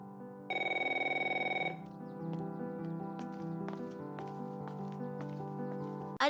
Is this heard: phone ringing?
yes